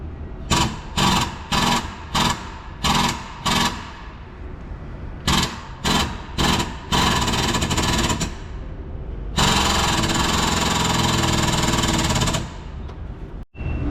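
An air-powered press or impact tool forces a part out during a heavy goods vehicle axle replacement, loud and close: a series of short rattling hammering bursts, then one long sustained burst that cuts off abruptly.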